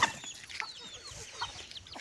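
Backyard laying hens cluck and murmur softly throughout, a loose run of short, scattered calls from a small flock at moderate distance, with no talk over them.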